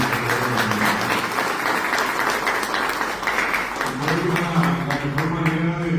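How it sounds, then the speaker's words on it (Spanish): Audience applause for a Paraguayan folk singer at a tribute event of a Guarani language and culture society, steady sustained clapping filling the room for several seconds, with some voices murmuring underneath. "quiero pedirle para ella un fuerte aplauso."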